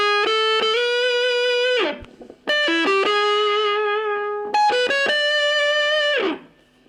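An electric guitar with distortion plays the lead riff, three sustained, buzzing note phrases with short slides and bends, each ringing out before a brief gap, loud and up close with no voices.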